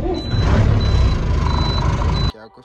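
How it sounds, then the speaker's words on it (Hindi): A truck's heavy diesel engine rumbles loud and close throughout, with evenly spaced high reversing beeps repeating over it, before the engine noise cuts away abruptly near the end. "सो करते हैं अपनी गाड़ी स्टार्ट और चलेंगे"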